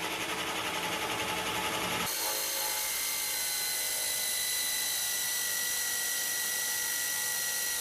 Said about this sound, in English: The Autocraft drilled through the oak in 43 seconds.